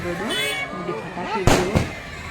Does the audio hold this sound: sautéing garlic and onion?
no